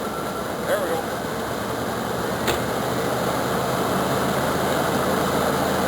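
A 1985 Chevrolet Caprice Classic idles just after a cold start on a cold morning, its choke malfunctioning, with a steady low engine drone and two brief faint clicks or squeaks over the hum.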